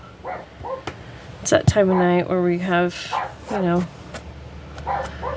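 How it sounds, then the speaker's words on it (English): A Yorkshire terrier barks in a few short, yappy bursts from another room, nearby but muffled, while a person keeps talking over it. "you might hear my daughter's Yorkie barking a little bit from the other room"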